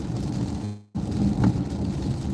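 Continuous rain in Houston hisses steadily, cutting out briefly for a moment before resuming with a low rumbling underneath.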